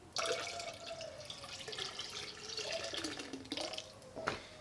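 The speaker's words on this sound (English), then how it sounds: "And just a little bit of water to get some more of that goodness out of the jar." Water is poured into a jar while making a rum wash for home distilling. It gives a gentle trickling and gurgling with shifting pitch and a few small splashes, close and fairly quiet, with no speech.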